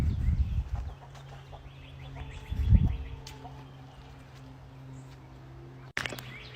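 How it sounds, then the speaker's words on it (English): Chickens raised as yard birds on a farm cluck intermittently at close range, with bursts of low, thumping bustle near the start and again midway over steady outdoor background noise, and a sharp knock near the end. "These are the yard bird we eat."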